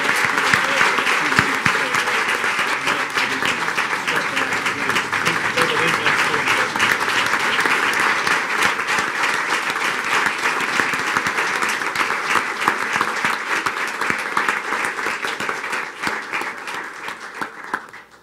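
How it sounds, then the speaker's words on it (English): A school board meeting audience gives a long round of applause, dense and steady clapping filling the room for around eighteen seconds with individual claps flickering through before it fades at the end. "Let's give a round of applause for those who couldn't be here."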